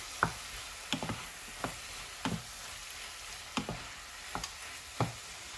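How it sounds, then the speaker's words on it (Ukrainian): Soft sizzling of chicken and garlic frying in a pan, punctuated by irregular clicks and scrapes of stirring, close by with no voices. "Також буде смажитися декілька хвилин."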